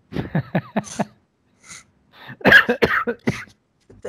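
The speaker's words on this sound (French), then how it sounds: "Pourquoi tu tousses?" A run of coughs, several sharp bursts in quick succession, then a short pause followed by another cluster of harsher coughs, close and fairly loud.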